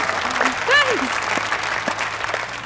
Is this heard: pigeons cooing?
no